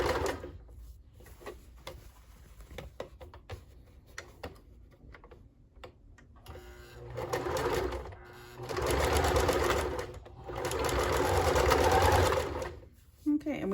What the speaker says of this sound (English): on my machine is C, biggest stitch is 4. 4 just means zigzag.